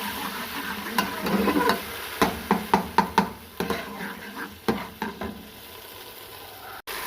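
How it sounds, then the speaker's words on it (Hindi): Spoon scraping and stirring in a pan, a series of sharp clinks and knocks over a steady sizzle as garlic, ginger and green chili paste fries in hot oil. "अब हम इसमें लहसुन, अदरक, हरी मिर्ची का पेस्ट डालेंगे और उसको भूनेंगे थोड़ा सा।"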